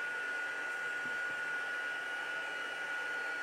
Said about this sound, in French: Un dernier petit tour de pistolet.